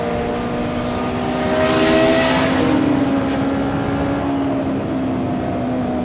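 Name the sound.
Formula 1 race car driving on track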